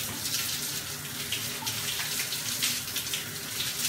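A facial cleansing brush is rinsed under a running shower, giving a steady, close, broadband spray of water over its head for a few seconds with no voices.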